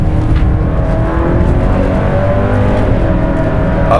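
A 2022 Hyundai Santa Cruz with a dual-clutch transmission accelerates hard on damp S-turns, its engine drone loud and close from the cabin, with quick shifts changing the pitch.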